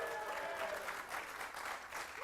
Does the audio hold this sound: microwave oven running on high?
no